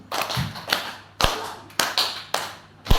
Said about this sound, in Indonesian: Tepuk 2 kali.